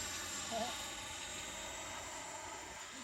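An FMS 80mm Integral electric ducted-fan model jet climbs steeply on its maiden flight, heard as a continuous high whine that stays fairly faint and distant and holds steady for the whole stretch.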